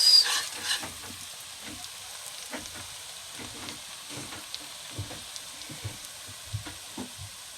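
Garlic sautéing in a pan for a Filipino octopus dish, giving a soft, steady sizzle with faint crackles and occasional stirring clinks, close and fairly quiet, with no talking.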